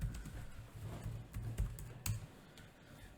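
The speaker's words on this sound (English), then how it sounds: "typing it rapidly" Rapid typing on a computer keyboard, quick irregular clicks of keys close to the microphone, with a few louder strokes over a low background hum.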